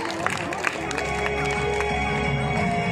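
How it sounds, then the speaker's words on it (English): School audience clapping and cheering as students come forward with science projects, mixed clapping with children's shouts and crowd noise, fairly close and busy over a low hum. "Give them a big round of applause."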